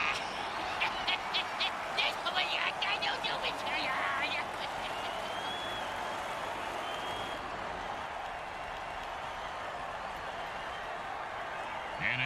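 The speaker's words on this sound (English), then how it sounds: "Oh, crowd's loving it." A football video game crowd roars steadily as a broad, constant wash of cheering, with brief clapping and whooping bursts in the first few seconds before it settles into an even, sustained din.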